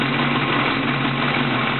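A 1968 Mustang Fastback with a Windsor 351 stroked to 427 and MSB headers idles steadily, a loud, even, close-up rumble that holds without change or revving.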